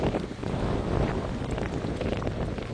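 Strong storm winds from Storm Benjamin gust through wooded areas of a park in Isère, France, producing a loud, continuous roar that buffets the microphone.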